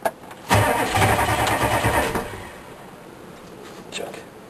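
Chevrolet K3500 truck engine cranking cold, a loud rhythmic churn of about two seconds that then settles into a quieter running idle.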